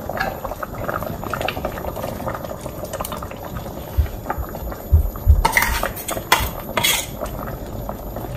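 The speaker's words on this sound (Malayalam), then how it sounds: "ഇനി നമുക്കിത് ഇതിൻ്റെ അകത്ത് ഒഴിച്ചു കൊടുക്കാം." Ground spice paste pours into boiling sambar, a continuous close bubbling with utensil clinks and a few spoon knocks against the pot.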